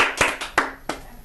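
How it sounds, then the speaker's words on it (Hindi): Contestants on a Hindi quiz show clap together, a few sharp, close hand claps at an uneven, slowing pace. "चूंकि और भी 2 कंटेस्टेंट्स ताली बजा रहे हैं साथ में"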